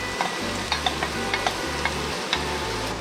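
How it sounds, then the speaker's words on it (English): Diced peppers, four cloves of garlic, carrots and chopped onions sautéing in a pan, a continuous sizzle broken by a handful of quick spoon scrapes and taps, close up with no speech. "And I'm gonna saute"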